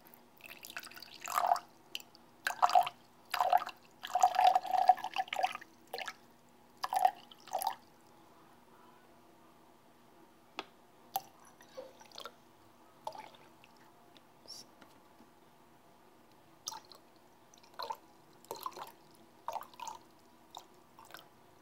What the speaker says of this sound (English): Basically, just taking some water or any liquid and pouring it in.